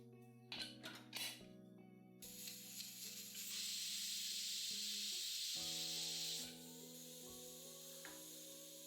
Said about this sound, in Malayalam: കുക്കർ അടച്ച് മീഡിയം ഫ്ലെയിമിൽ 1 വിസിൽ വരുമ്പോൾ ഗ്യാസ് ഓഫ് ചെയ്യുക